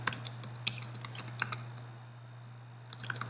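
A username and password are typed on a computer keyboard in quiet bursts of close, light key clicks, pausing briefly in the middle before a final quick flurry, over a steady low electrical hum.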